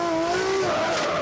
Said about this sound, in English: As he comes off the line in the unmissable yellow S14A.